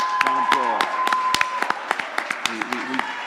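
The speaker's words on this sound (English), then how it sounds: "Round of applause." Audience applause for SPD technicians, managers and educators at a charity giving day event, scattered sharp claps from a small crowd under loud, excited talk and cheering voices.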